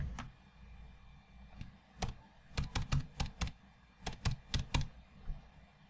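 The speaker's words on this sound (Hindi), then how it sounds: "अब हम सर्च में अपड्राफ्ट प्लस टाइप करेंगे।" Typing on a computer keyboard while entering a WordPress plugin search, heard as irregular bursts of crisp, close key clicks with short pauses, alone and fairly quiet.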